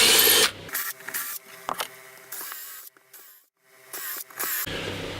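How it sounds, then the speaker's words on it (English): A power drill bores holes into wood for a homemade pillar drill press drum sander, several short loud whirring bursts separated by brief pauses, close and without talk. "Now I'm just going to drill in the 4 corners on this side"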